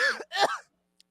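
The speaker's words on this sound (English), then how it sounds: "Stupid cough." A single harsh cough followed by a second throat-clearing burst, close to the microphone, with a tiny click after and then silence.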